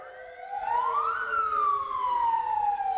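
An ambulance siren wails in a rising and falling tone, fairly loud and alone over faint road noise, one long sweep climbing then slowly descending.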